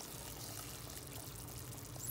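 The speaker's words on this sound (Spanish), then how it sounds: "Agregué el agua caliente" Hot water pouring into a pot for pasta soup with vegetables, a steady close splashing pour that holds the whole time with no talk.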